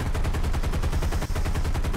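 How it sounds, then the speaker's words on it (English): Rapid, continuous .50 caliber machine gun fire in the War Thunder video game, a dense unbroken rattle of shots filling the whole stretch, loud and close with no talk over it. "we've got plenty of 50 caliber machine guns"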